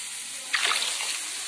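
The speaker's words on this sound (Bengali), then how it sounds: "এখন আমি জল দিয়ে দেবো।" Water poured into a cooking pot for a Bengali fish curry, a brief splash and slosh that fades into a soft trickle, close and alone.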